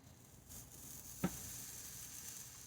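A grilled cheese sandwich sizzles softly in a pan, a faint steady frying hiss broken once by a short clack as it is flipped, then the quiet sizzle carries on.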